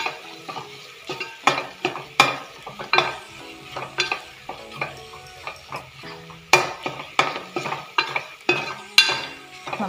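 Star fruit pickle with asafoetida powder is stirred in a pan, a rhythmic run of close spoon scrapes and clinks over a low sizzle, with no voices.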